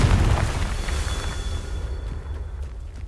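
A Confringo fire spell explodes in Hogwarts Legacy, a loud, deep, rumbling blast that fades away gradually over a few seconds.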